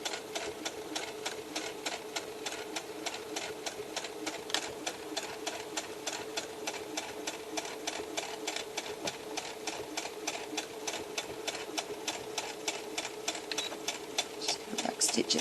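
A sewing machine stitches a baby blanket in a steady, fast run of needle strokes at close range, with a faint hum and some uneven feeding at the start. No one speaks.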